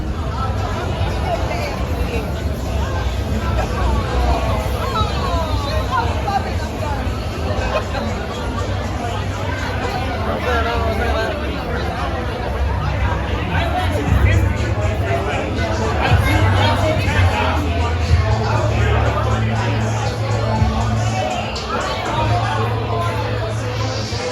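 Dense nightlife crowd on Calle San Sebastián in Puerto Rico, a steady loud babble of many voices with passing traffic underneath, continuous and close all around for the whole stretch.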